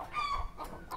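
Chickens cluck on a small local poultry farm, with several hens calling close by in short overlapping bursts and a low background rumble.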